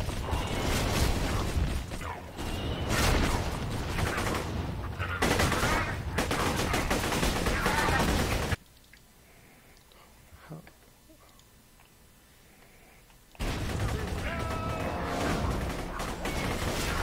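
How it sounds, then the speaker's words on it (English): Mortar and gunfire in a Borderlands 2 battle pound loudly and steadily, cut out into near silence for several seconds, then come back. Voices can be heard faintly in the mix. "What's hitting me? There's mortars."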